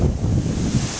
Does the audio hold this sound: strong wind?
yes